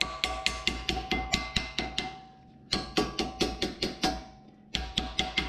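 Sharp metallic taps land in quick, even bursts as new brake pad clips are tapped into place on a Cobra, close and crisp, with brief pauses between runs.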